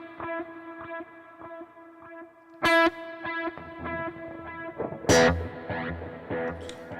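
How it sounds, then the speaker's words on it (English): Distorted lead electric guitar for worship music, run through two delays both set to dotted eighths so the repeats merge into one echo; a plucked line trails off in repeats, with a few sharper strummed bursts. "So they both set to the same tempo, so it sounds like you're just hearing one delay."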